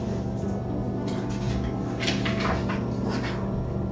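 A drawer opens against a steady background hum, its scrape and clunk rising faintly over a few seconds in a home setting.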